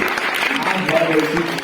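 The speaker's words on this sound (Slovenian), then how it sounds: "en aplavz za našo ekipo" A small group claps for the band's team in a short, dense burst of applause, with voices talking over it close by.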